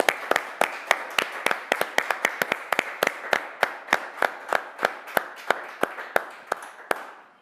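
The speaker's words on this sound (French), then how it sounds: "on vous applaudit très fort" An audience at a French congress claps in steady unison, a brisk run of sharp, evenly spaced claps lasting several seconds and ending abruptly.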